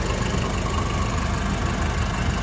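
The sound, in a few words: Nissan Urvan van engine revving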